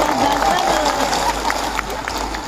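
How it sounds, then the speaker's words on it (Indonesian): An audience at an Indonesian religious sermon claps in a dense, sustained burst, mixed with crowd murmur and a nearby voice talking over it. "Tepuk tangan dulu enggak apa-apa."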